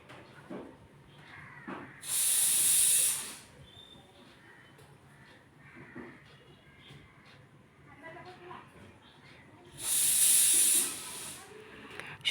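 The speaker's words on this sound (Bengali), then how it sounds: "খাবার বসাইছি, সিটির আওয়াজ শুনতে হয়তো পারবা তোমরা" A pressure cooker whistle blows twice, each a sharp hissing blast of steam lasting about a second, heard in a home kitchen amid quiet household sounds and faint talk.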